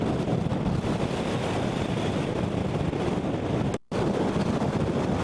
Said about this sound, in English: it's so doggone hard to walk with that crosswind